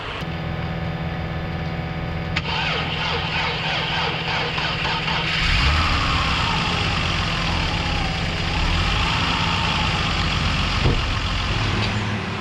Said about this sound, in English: the computer just doesn't have enough voltage to idle the car correctly